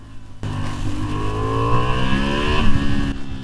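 A 2023 Honda Hornet twin-cylinder motorcycle engine revving loudly and close, pitch climbing steadily for about three seconds with gear-like steps before cutting off abruptly, no speech.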